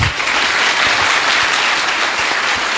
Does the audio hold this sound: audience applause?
yes